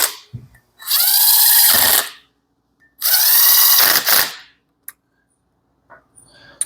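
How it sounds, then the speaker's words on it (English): An impact wrench driving bolts down on a Subaru EJ25 engine during a cam and rocker install, two loud rattling bursts of about a second each, close up, followed by faint tool clicks. "We use an impact to get it down there."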